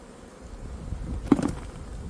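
Honeybees buzz around the entrance of a beehive, a steady low insect drone that swells briefly in the middle with a closer, louder pass before settling back.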